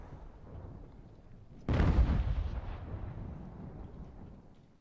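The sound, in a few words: cannons firing at fort in Ultimate General: American Revolution video game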